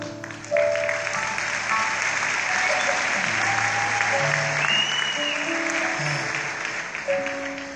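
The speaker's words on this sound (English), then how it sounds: "You can definitely applaud him." Audience applause fills a music show's hall with steady, dense clapping that holds for several seconds while sustained instrumental tones linger underneath.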